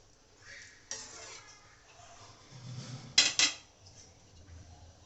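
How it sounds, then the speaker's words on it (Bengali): A metal lid set onto a cooking pot of aloo dum made with goat fat, giving a couple of close, bright clanks with a lighter clink before them and quiet kitchen sounds around. "ঢাকনা দিয়ে ঢেকে দিলাম"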